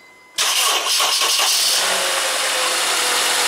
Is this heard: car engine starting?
yes